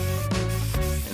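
Eastwood paint sprayed onto a pipe fence rebuilt from chain link, a steady close hiss broken by brief gaps as the nozzle trigger is released and pressed again.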